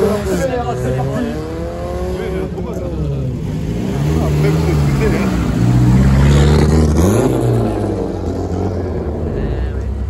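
Renault R11 Turbo rally car accelerating hard during a race, engine note rising and falling through gear changes, loud and close, with people talking over it.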